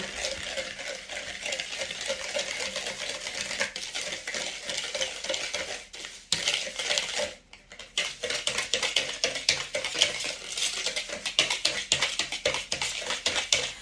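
Sugar and vanilla sugar whisked in a bowl, a steady, brisk scraping and clinking of the whisk against the sides that continues without a break for about fourteen seconds.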